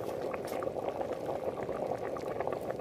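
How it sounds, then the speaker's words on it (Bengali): Rice and lentils boiling together in a pot for potato khichuri, a close, steady bubbling and gurgling that continues evenly with no voices. "দেখো ডাল চাল সিদ্ধ হয়ে গেছে"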